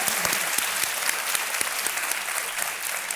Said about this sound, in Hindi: तालियां बज जाए इसके लिए।